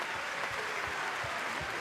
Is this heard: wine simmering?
no